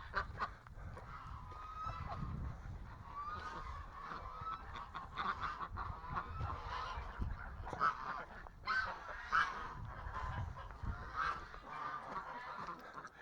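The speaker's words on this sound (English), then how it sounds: "the ganders are fighting with each other" Geese and ganders honk and squabble as they fight, with harsh overlapping calls repeating steadily at close to middle distance against a low, rumbling background.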